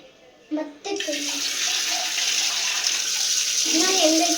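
Water runs steadily into a sink or basin while dishes are washed by hand, a continuous close splashing flow with brief sloshing movements and short bursts of a voice over it.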